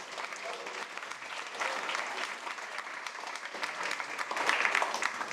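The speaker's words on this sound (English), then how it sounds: "Let's give all the teams a big round of applause." An audience at a startup demo day event claps in sustained, dense applause, close and steady throughout, swelling slightly toward the end.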